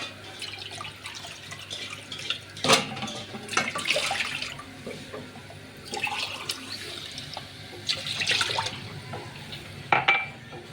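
Water poured into a pan in several splashing bursts to make sugar syrup for gulab jamun, heard close up with drips and pauses between the pours.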